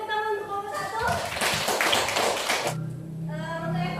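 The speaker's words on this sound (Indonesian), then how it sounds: "beri tepuk tangan untuk kelompok" A classroom group gets a burst of clapping from students, dense and fairly loud for about two seconds between stretches of talking, then fading out as a voice resumes.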